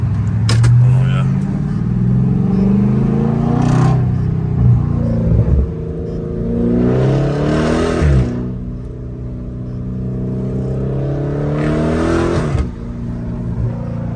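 A catless Dodge Charger Scat Pack idles with a deep, loud rumble in traffic and then revs in swelling bursts, while people talk inside the car over the engine.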